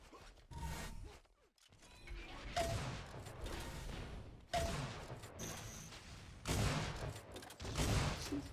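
Grenades fire and explode in Unreal Tournament 4 during a duel match: several sharp, loud bursts at irregular intervals, each followed by a brief crackling decay over a quieter game background.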